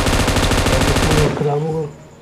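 A loud burst of rapid automatic gunfire in the battle royale game PUBG Mobile, steady shots for over a second, then stopping abruptly, followed by a brief voice.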